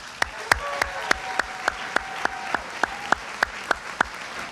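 A small awards audience claps for education professionals, the sparse claps landing in a fairly regular rhythm, a dozen or so distinct hand strikes standing out clearly over a quiet room.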